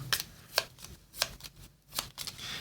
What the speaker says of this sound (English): This gets shuffled back in the deck.